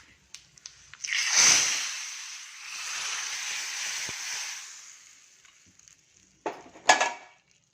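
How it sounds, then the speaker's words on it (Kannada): Cumin, fenugreek, curry leaves and dried chillies hit hot oil for a tempering, bursting into a loud close sizzle that hisses for a few seconds and fades, followed by a few metal utensil clinks. "ಸ್ವಲ್ಪ ಜೀರಿಗೆ, ಮೆಂತ್ಯ ತೊಗೊಂಡಿದ್ದೀನಿ, ಕರಿಬೇವಿನ ಸೊಪ್ಪು, ಒಣಮೆಣಸಿನ್ಕಾಯಿ ಹಾಕ್ಕೊಂಡು ಒಗ್ಗರಣೆ ಮಾಡ್ಕೊಳ್ತೀನಿ"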